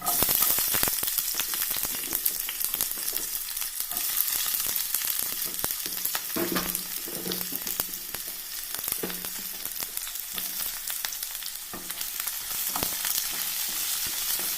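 Onion sautés in a pan with soya chunks, giving a steady, moderate sizzle with crackles and occasional stirring clatter.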